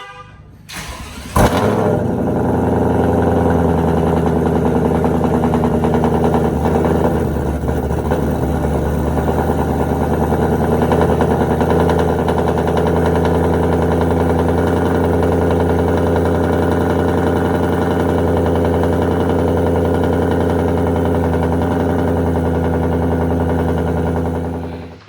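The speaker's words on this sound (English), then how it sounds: "So let's get ready with the cold start." A supercharged engine in a 2020 Shelby GT500 turns over with a sharp burst on cold start, then settles into a loud, steady, deep rumbling idle that holds for over twenty seconds before cutting off.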